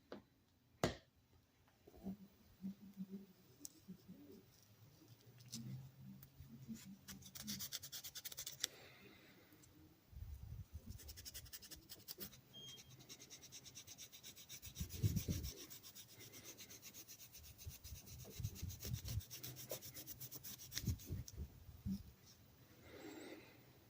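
Steel wool and Scotch-Brite scrub the brass lining of a WW2-era Camillus rope knife's bail, producing steady close rubbing and rasping strokes, with bursts of heavier scraping in the middle and no talking.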